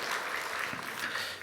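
A church congregation at a Sunday service breaks into brief, dense applause, a steady wash of clapping filling the room for a moment before fading.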